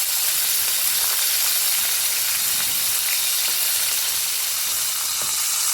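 Battered tofu fries in a wok with a steady, loud, hissing sizzle and faint crackles. There is no talk over it.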